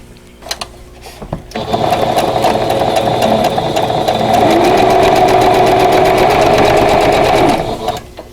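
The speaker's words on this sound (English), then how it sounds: "Then I will sew this row" Sewing machine stitching pieced quilt block rows: a short stop-start whir, then a loud, steady motor hum with rapid needle ticking running for about six seconds before halting.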